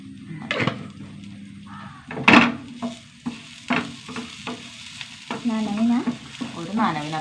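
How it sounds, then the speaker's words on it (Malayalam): Scraping stirs and clinks in a pan as grated coconut roasts in a few drops of coconut oil over a low sizzle, several strokes in irregular rhythm, close up and without speech. "തേങ്ങ നന്നായി വറുത്ത് വന്നു"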